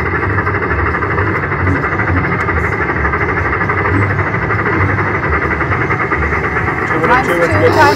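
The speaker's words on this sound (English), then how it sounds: "So we get the train coming across the top here." Train crossing the top of the screen in the Midnight Express slot video game, a steady, loud rumbling chug that runs without a break for the whole stretch.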